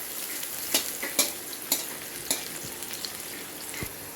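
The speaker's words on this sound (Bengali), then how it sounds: "এবার আমরা তেল গরম করে নিচ্ছি, দিয়ে দিচ্ছি তার মধ্যে পেঁয়াজ কুচি। ভালো করে নেড়ে নেব।" Chopped onion sizzles softly in hot oil while a spatula stirs it, giving several distinct scraping clacks against the pan over a steady low frying hiss.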